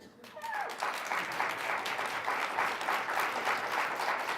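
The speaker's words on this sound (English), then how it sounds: "So we're gonna clap" A conference audience breaks into sustained, dense applause at a tech summit, steady and full after a brief quiet start.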